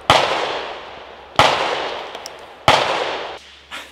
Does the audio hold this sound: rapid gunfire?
yes